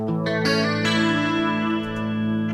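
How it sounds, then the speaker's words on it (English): A sustained synth tone thickened by a shimmering chorus effect, layered with repeating delay echoes that swell and smear the notes together. "this multi-tap delay is doing the chorus sound in there"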